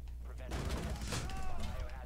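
Shotgun fire in the video game Rainbow Six Siege, a dense cluster of loud blasts and impacts packed into a couple of seconds, with a player's voice talking over the noise.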